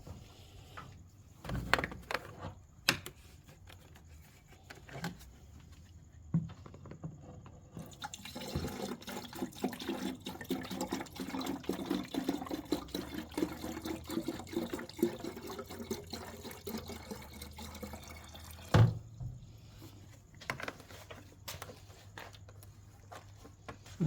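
Coolant poured into a car's coolant reservoir, a continuous close liquid trickle and glug lasting several seconds, with occasional clunks around it.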